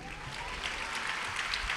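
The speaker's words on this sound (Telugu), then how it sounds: "చప్పట్లు కొట్టండి" A church congregation clapping together at a Holy Communion Sunday service, a dense, even patter of many hands that holds steady throughout, moderately loud in a reverberant hall with no talk on top.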